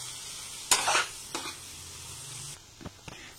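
Masala spices for a mushroom curry frying and being stirred in a pan, giving a steady sizzle with a few sharp scraping strokes of a spoon, close and unaccompanied by speech.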